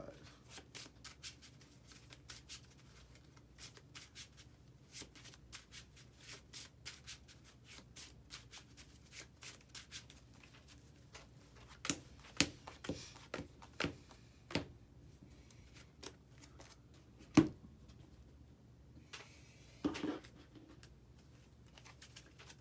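A deck of Marvel Champions cards is shuffled on a tabletop, soft scattered card taps and snaps up close, building into sharper clicks midway, with faint talk in the background.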